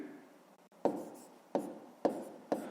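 A pen writes numbers on paper while working out a subtraction for a fifth-grade maths exercise, a faint close scratching with four sharp taps as strokes begin, spaced about half a second apart.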